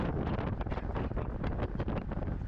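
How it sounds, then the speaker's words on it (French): Strong wind buffets an outdoor microphone in steady, loud gusts that swell and dip throughout, a rough low roar with no voices. "Il y a un petit vent quand même."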